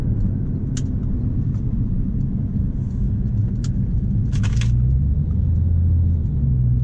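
A Porsche 997 Turbo on the move produces a steady low engine and road rumble heard from inside the cabin, with a few faint clicks and brief rattles above it and no talk.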